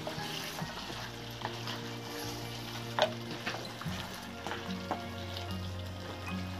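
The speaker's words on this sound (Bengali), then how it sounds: "এভাবে এবার আমরা এভাবে কষিয়ে নিচ্ছি" Meat cooked with whole spices is stir-fried in a pan, a moderate steady sizzle with intermittent spatula scrapes and clinks and a low hum underneath.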